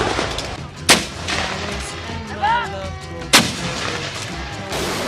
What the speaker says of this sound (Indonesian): howitzer 105 mm yang telah masuk styling langsung melaksanakan penembakan secara berturut-turut